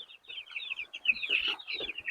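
Broiler chickens cluck and chatter in quick, overlapping bursts close by, a busy flock with no talk.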